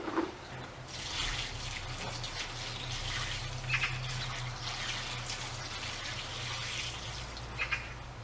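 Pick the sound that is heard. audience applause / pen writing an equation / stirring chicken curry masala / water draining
water draining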